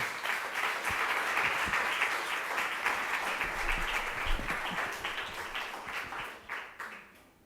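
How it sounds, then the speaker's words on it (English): Audience applause at a poetry and spoken-word evening, a dense steady wash of many hands clapping that thins and tapers toward the end, with no talk over it. "Clap yourselves."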